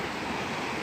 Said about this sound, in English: Look how much water is flowing through.